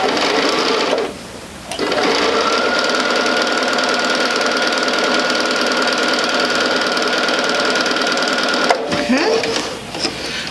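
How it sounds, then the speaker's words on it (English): A sewing machine stitching a quarter-inch seam across quilt fabric, a rapid, steady mechanical whirring and clatter that runs for several seconds with brief pauses, close and loud. "we're going to sew this one all the way across."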